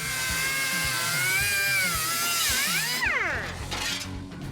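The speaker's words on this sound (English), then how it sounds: "Now I can start cutting up these brand new tubs." Power tool cutting brand-new sheet-metal wheel tubs on a 1967 Pontiac LeMans, a steady high-pitched whine with rhythmic low thumps beneath, sweeping in pitch as the blade bites and loads up near the end.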